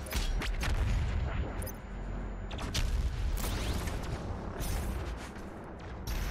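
The BFG 10,000 cannon firing in the Doom video game, with heavy booming blasts and rumbling mechanical noise over a loud, continuous low roar.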